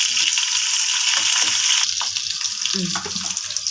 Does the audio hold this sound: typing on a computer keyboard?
no